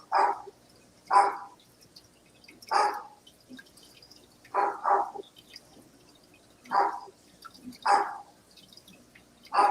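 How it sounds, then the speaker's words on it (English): A dog barks repeatedly in short single and double barks, spaced out with quiet gaps, sounding moderately close in an enclosed room. "He's standing in the kitchen barking at nothing."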